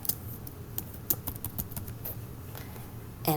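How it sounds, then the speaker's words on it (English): Soft, irregular keystrokes on a computer keyboard as a city name is entered in a web search, sounding close but quiet against faint room noise. "They need to type in their city."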